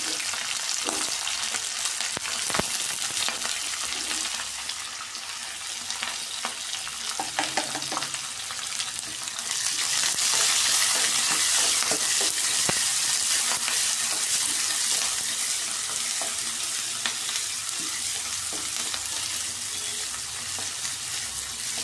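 Green chilies, curry leaves, onion and chana dal fry in hot oil, a dense continuous hiss that swells louder partway through, with occasional stirring clatter and a faint watery trickle.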